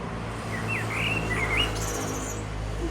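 A chorus of small birds chirping in the evening, a few sliding, whistled calls followed by a higher trill, clear over a constant low rumble, with no voices.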